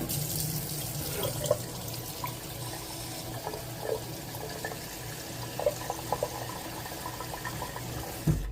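Water runs steadily from a tap into a sink, a continuous close splashing stream with faint clinks now and then.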